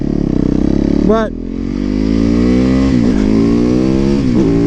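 Harley-Davidson motorcycle engine revving loudly up close, with a quick throttle blip then a sustained rising pull as it accelerates, brief voice at the start.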